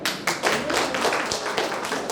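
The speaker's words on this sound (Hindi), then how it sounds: "ताली बजाइए।" An audience at a live comedy show claps together, a close, brisk burst of scattered hand claps sustained for about two seconds.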